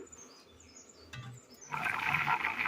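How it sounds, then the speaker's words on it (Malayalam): A mixer grinder starts up partway through to grind coconut, shallots, cumin, garlic and water into a paste, a loud harsh whirring roar that follows a quieter kitchen stretch. "നന്നായി ഒന്ന് അരച്ചെടുക്കാം"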